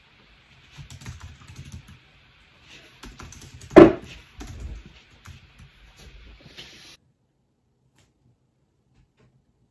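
Fingers type on a computer keyboard at a medical coding job, a few seconds of uneven, close clicking bursts with one sharper knock partway through, and then silence.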